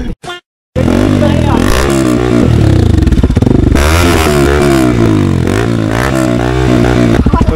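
Motorcycle with a dB killer fitted in its exhaust revs loudly and close at a bikers' meet-up in Jalgaon, rising and falling through repeated throttle blips after a brief stutter at the start.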